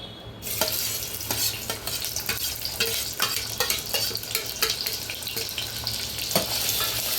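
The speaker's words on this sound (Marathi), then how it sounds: "तेल गरम झालेलं आहे, त्यात आपण टाकणार आहोत कांदा।" Chopped onion frying in about four spoons of hot oil for Malvani chicken, a steady loud sizzle throughout with scattered sharp crackles and pops, no voices.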